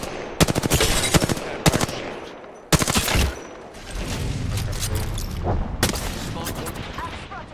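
Video game gunfire rattles out in rapid automatic bursts, loud and close, broken by short pauses and heavier impacts, with scattered in-game effects underneath.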